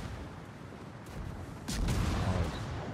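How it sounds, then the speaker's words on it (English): Torpedoes launched from a ship in a naval battle game: a low muffled whoosh and thump that rises into a sustained rumbling swell, with gunfire-like booms blended into the busy battle noise. "Torpedoes away."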